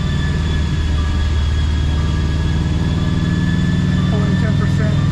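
A 2017 Subaru STI engine runs at a steady held rpm, giving a loud, continuous droning hum with even harmonic tones throughout and a voice underneath.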